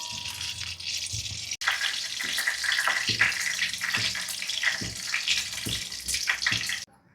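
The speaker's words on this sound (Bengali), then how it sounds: "গরম মশলা, তেজপাতা সব ফোড়ন দেওয়া হচ্ছে, শুকনো লঙ্কা দিয়ে এটা ফোড়ন দেওয়া হচ্ছে।" Garam masala, bay leaf and dried chilli sizzling in hot oil in a pan, a continuous crackling hiss with scattered sharper pops, steady and close, after a brief break near the start.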